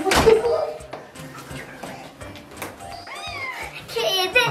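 A cat's meows rise briefly over children's excited chatter and household noise, with a sharper cry near the end.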